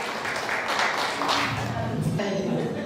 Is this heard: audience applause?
yes